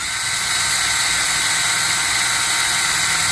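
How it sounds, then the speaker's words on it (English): A steady, loud electric drill whine runs in reverse throughout without pause, priming the oil lines of a 2004 Yamaha GP1300R engine, a constant motorized hum with no talking. "The drill is running in reverse, because forward you will never, ever, ever prime your lines."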